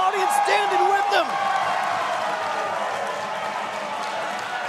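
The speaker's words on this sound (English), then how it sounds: "The roar of the crowd in the Davis Arena deafening." A wrestling arena crowd at a tag team championship event roars and cheers loudly in a dense, sustained wash of noise, with a commentator's voice cutting through at the start.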